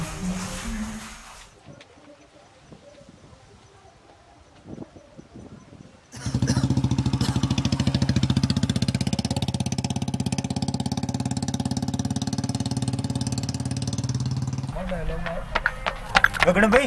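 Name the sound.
motorcycle approaching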